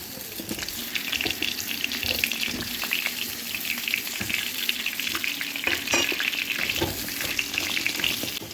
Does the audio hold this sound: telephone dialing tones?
no